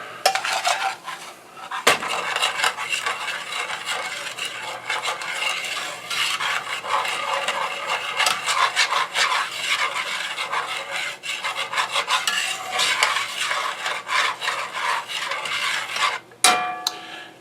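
Metal utensils rub and rasp steadily against pan bottoms, scraping browned bits free while deglazing for Wisconsin tavern-style hot beef, a continuous close scratching with a couple of sharp knocks and no talk.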